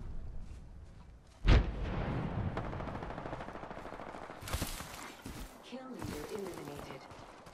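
Gunfire in the Apex Legends video game: one loud, sharp shot followed by bursts of rapid automatic fire, with more shots later, under voice chatter.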